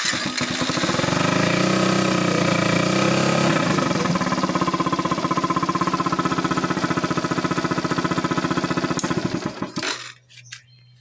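A Yamaha SZ-R motorcycle with a wiring fault that keeps blowing its fuse starts up and runs, its engine pulsing loudly and close for about ten seconds before cutting out abruptly.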